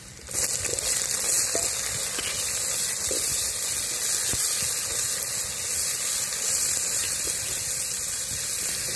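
Onion goes into hot oil already holding curry leaves, fenugreek and garlic for tomato thokku, setting off a loud, steady, close sizzle and hiss that continues without pause and without talk.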